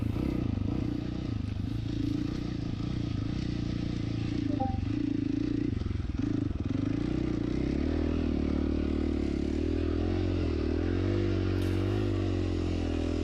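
An FC450 dirt bike churns through thick, deep, sloppy mud, its engine a steady low drone that rises and falls with throttle under constant rumble, close and loud throughout.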